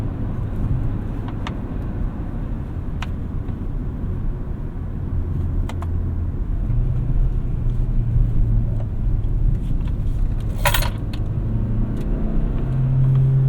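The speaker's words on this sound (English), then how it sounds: "I'm actually going to put this into sport mode, which uses most of the engine, more than the electric motor." A 2023 Kia Sportage Hybrid LX accelerating in sport mode with paddle shifts: a steady, loud in-cabin engine drone and road rumble, rising in pitch through the run, with brief clicks partway through.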